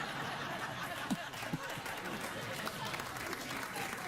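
Studio audience of a late-night talk show applauds, a faint, steady wash of clapping with scattered laughter and chatter underneath.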